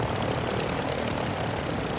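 A video game helicopter holds a continuous, loud, close whirring drone of rotor and engine noise throughout, with no talk and no pauses.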